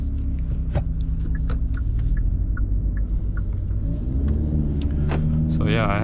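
A 2024 Hyundai Elantra N running in N mode, its engine a steady loud rumble from inside the cabin with a slight rise near the end, while a person talks over it.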